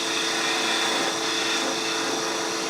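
A 3/8 inch spindle gouge cuts a spinning wooden nativity figure on a lathe, giving a steady, loud, continuous broadband whir and hiss of motor and tool on wood with no pauses.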